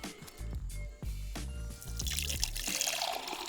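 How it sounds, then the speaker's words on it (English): Water pours into a Stoke Voltaic electric kettle, a close gurgling fill with rising pitch as the vessel fills, briefly interrupted and then resumed in a steady stream. "we're just gonna fill it up with water, no ingredients"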